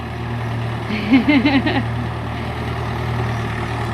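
A small grey Ferguson tractor engine runs at a steady idle, a low, even hum close by, with a short burst of voice over it partway through.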